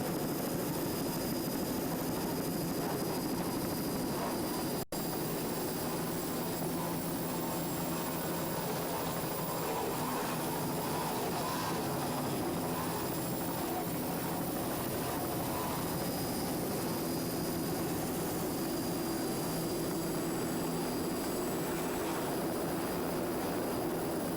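A helicopter over a powerboat race at Islamorada, a steady, continuous engine and rotor drone that stays constant throughout, with no voices.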